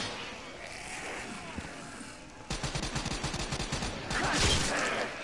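Gunfire in a PS4 video game, first a dense roar, then a rapid regular burst of automatic shots followed by more heavy firing, loud and continuous with faint voices underneath.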